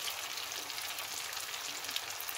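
Butter sizzles and crackles in a pot of tomatoes, a steady bright frying hiss with tiny pops, close and continuous with no voices.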